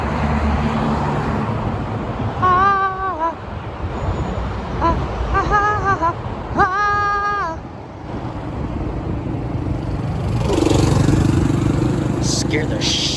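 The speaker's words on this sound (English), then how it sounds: "I guess it is pretty much a motorcycle" A motorcycle passes on a side street in Southeast Portland near a bridge over the highway, its engine roar swelling loudly near the end over steady traffic noise, with people talking earlier.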